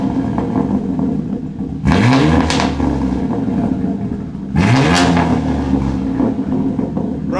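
BMW G80 M3 with S58 engine and ARM single mid-pipe exhaust revving loudly twice, each sharp rise in pitch followed by a steady, clean high idle, with a constant engine rumble between the blips.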